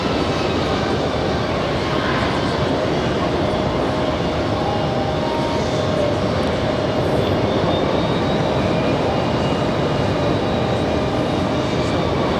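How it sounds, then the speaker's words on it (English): A Gulfstream business jet arriving at JFK airport, a loud steady roar of jet engines with broadband rushing noise filling the whole stretch, constant in level as the aircraft passes close by. "Gulfstream just came in"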